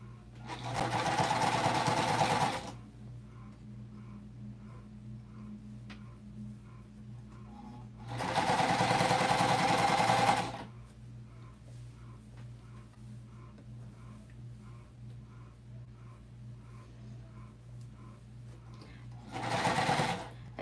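Domestic sewing machine stitching a Minky blanket in three loud, rapid whirring bursts of a couple of seconds each, separated by quieter pauses filled with a faint steady hum and soft ticking.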